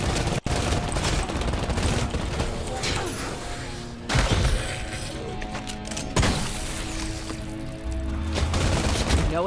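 Gun in the video game Bombshell firing in dense rapid bursts, loud and continuous with a few heavier booms, a voice talking underneath at times.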